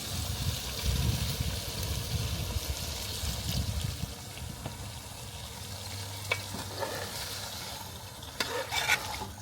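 Water poured into a pot of chicken curry that was frying and stirring, a loud sizzle and bubbling hiss giving way to a softer gurgling simmer with occasional clinks of a spoon.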